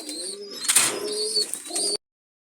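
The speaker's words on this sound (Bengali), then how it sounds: "এরা হচ্ছে সাকি গ্রুপের কবুতর" A pair of Shaki breed pigeons coo close by in soft, throaty, warbling calls with brief flutters, lasting about two seconds before cutting off into silence.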